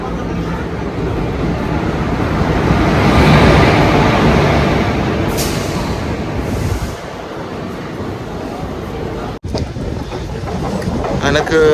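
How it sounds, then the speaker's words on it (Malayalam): Intercity Express train rolling into platform 2, a loud, broad rumble and rushing roar that swells and then eases as the carriages slow, heard close up with a brief sharp clunk near the end. "നമ്മുടെ വണ്ടി പ്ലാറ്റ്ഫോം 2 വന്ന് കയറുകയാണ്"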